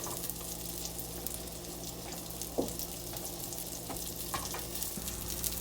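Salmon fries in oil and butter with garlic and lemon, a steady soft sizzle that carries throughout, broken by a few small pops and clinks of a utensil against the pan.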